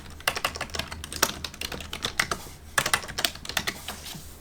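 Quick, close clicks of typing text on a computer keyboard, irregular bursts of keystrokes with a short pause midway, alone over a faint low hum.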